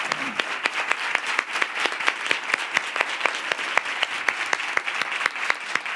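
Sustained applause from an audience at a public speaking session, a dense steady patter of many hands with sharper individual claps standing out, continuous throughout.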